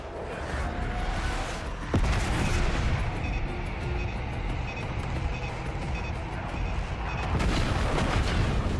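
Bombing run in Call of Duty Black Ops 6: a continuous roaring wash of explosions and rumbling blasts, with a sharp impact near two seconds and the barrage swelling again toward the end.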